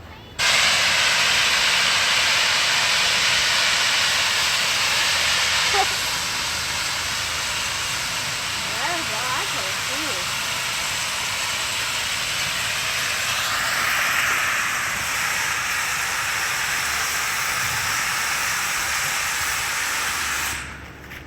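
A steady, loud hiss of escaping steam from the Vulcan steam locomotive runs for about twenty seconds, nearly unchanging, with faint clanks and a brief shift in tone midway.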